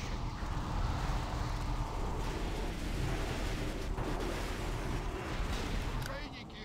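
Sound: cannon fire on a ship in a video game

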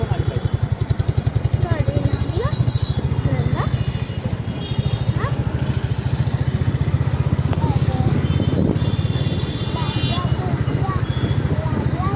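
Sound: motorbikes riding on the road at night

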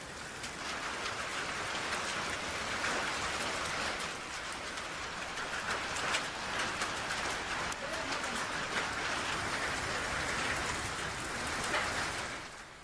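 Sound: hailstorm and rain at Bhimashankar

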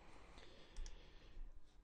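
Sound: computer mouse click in Photoshop

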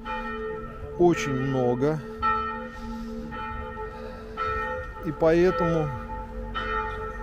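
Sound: church bells ringing in Kranj, Slovenia

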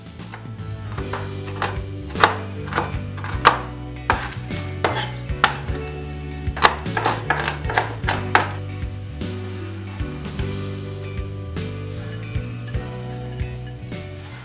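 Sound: chopping roasted almonds

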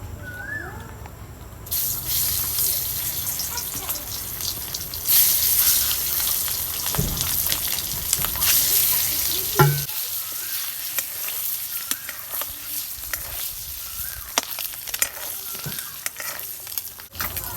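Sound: eggs frying in a pan with spices

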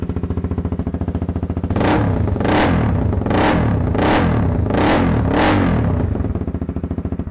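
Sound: motorcycle revving with non-original racing exhaust

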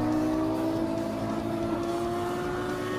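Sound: Ferrari sports car engine revving

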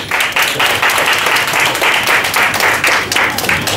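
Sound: audience applause welcoming a guest

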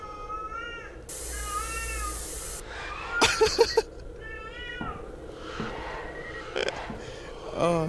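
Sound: cats meowing in the video game Erie

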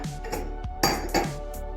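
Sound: stirring pudding with strawberries in a bowl

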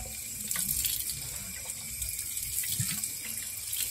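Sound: tap water running to rinse a Toyota Corolla radiator

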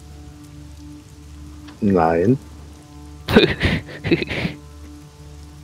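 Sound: rain dripping on leaves in a forest

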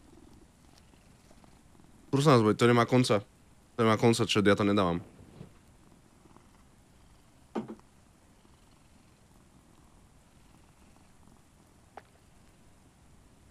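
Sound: cat purring in video game Mortal Shell

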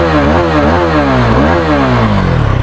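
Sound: Hero Karizma XMR motorcycle exhaust sound

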